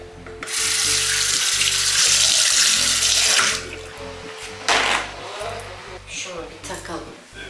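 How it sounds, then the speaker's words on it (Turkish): A tap runs water loudly into a sink as a face is washed. The water rushes for about three seconds and then stops, and a voice talks afterward. "şimdi bununla yüzümü yıkıyorum"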